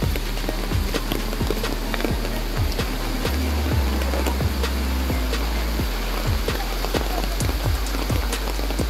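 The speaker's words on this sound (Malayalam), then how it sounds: "നല്ല മഴയാണ്." Heavy rain pours down in a Nilambur forest, a dense, steady hiss with repeated low thumps and patters from drops hitting nearby surfaces. No voices are heard.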